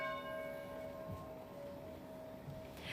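Church bells ringing at a distance in the evening, their sustained tones fading out against a quiet background as the peal ends.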